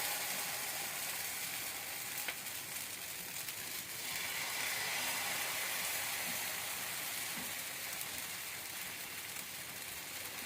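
Rice flour vegetable dosa batter sizzles on an oiled pan, a dense, even hiss like light rain that holds steady throughout without any speech.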